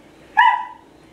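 A single sharp bark from a dog rings out close and loud, then fades quickly into a quiet room.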